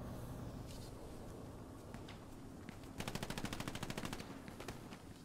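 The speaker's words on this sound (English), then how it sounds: "He's got an MG, I think." A burst of machine gun fire in the Hell Let Loose tactical shooter game, a rapid rattling string of shots over low rumbling background ambience, moderately distant and without speech.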